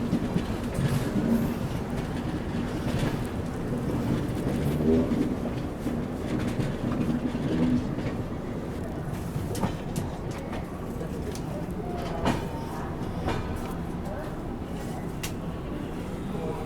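A long-distance express train rolls into Pandit Deen Dayal Upadhyaya railway station, its steady rumble and occasional wheel clatter heard from inside a 2AC coach, with faint birds and background voices.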